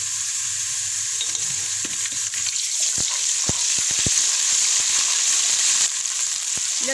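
Garlic paste fries with browned onions in a pan, giving a steady, bright sizzle throughout and occasional close clicks and taps from a spoon stirring, with no one speaking.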